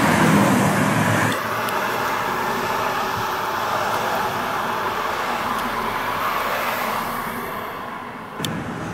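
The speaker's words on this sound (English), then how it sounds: "let's listen to some cars, and as they go by, I will hit it." Cars passing on a nearby road, recorded on a Sony HDR-PJ540 camcorder: a continuous broad rush of tire and engine noise, louder at first, then steady, with a faint bump near the end.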